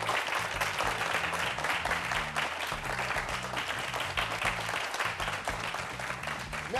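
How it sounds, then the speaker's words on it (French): Audience at a youth debate show applauding, continuous dense clapping with steady loudness throughout, with a faint voice and a low rhythmic background underneath. "Merci de vous applaudir très fort."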